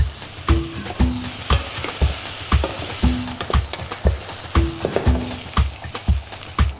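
Chopped onion sizzles in hot olive oil in a pan, a steady frying hiss broken by regular scraping knocks as it is stirred.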